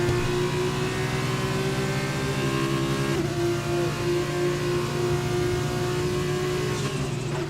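F2 race car engine in a racing game at the Japan round, a loud, steady high-pitched whine holding near constant with a brief shift in pitch partway through, heard alone.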